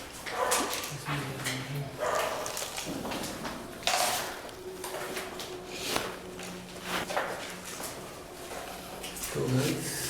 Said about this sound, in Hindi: कुत्ते भौंक रहे हैं